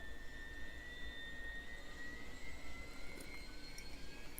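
A single tail-mounted jet engine of a small plane in a flight simulator game winds up from idle with the throttle at minimum, a steady faint whine with rising tones over a low rumble, no talk.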